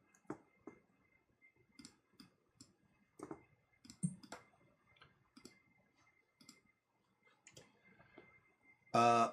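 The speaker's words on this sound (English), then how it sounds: "You gotta type it in." Keys clicking on a computer keyboard in irregular bursts, close and quiet, with brief pauses and a louder bump at the end.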